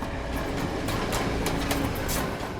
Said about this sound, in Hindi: ट्रेन की आवाज़ है ना कुछ?